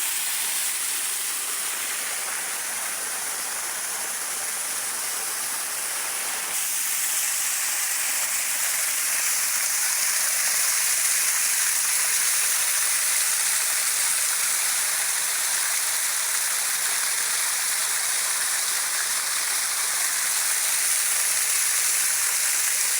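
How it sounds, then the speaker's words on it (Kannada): A waterfall pours steadily outdoors, producing a loud, continuous rushing hiss of falling water that swells slightly partway through and carries on alone without voices. "ನೋಡಿ, ಎಷ್ಟು ಚೆನ್ನಾಗಿ ಬಿದ್ದಿದ್ದು ನೀರು."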